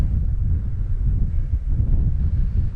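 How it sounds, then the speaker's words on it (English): Wind at a campsite beside a Scottish loch buffets the microphone in a steady, heavy low rumble that surges and eases throughout, with no other sounds. "Bit breezy"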